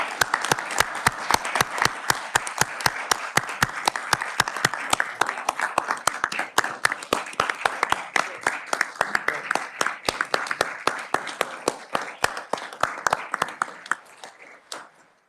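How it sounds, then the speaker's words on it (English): Sustained round of applause from attendees at a committee meeting, many hands clapping steadily and briskly in a dense patter that holds for about fourteen seconds before tapering off. "I'd like to give you a round of applause"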